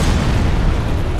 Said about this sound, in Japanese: 爆発ね